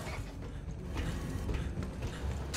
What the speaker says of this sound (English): Big freight elevator goes all the way up the main tower.